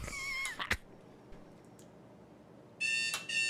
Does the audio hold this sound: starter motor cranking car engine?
no